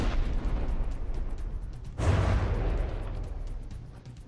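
Shells slamming into a warship in the From the Depths naval combat game, a deep booming impact that swells suddenly and rumbles loudly before slowly fading, with no talk.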